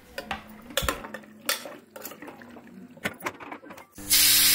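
Mutton stirred with salt and turmeric in a metal pot gives scraping, clinking strokes of the spoon in an irregular rhythm, fairly close, followed by a sharp hiss at the end.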